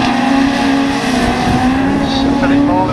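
Autograss race cars, class 7, racing down a far straight at a grass track meeting, engines droning and rising in pitch as they pass, heard under a commentator's continuous talk.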